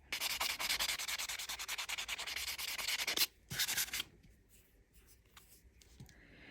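Close, rapid rasping strokes of a nail buffer on a fingernail, a dense rhythmic scrubbing for about three seconds, a brief pause, another short burst, then scattered faint rubs.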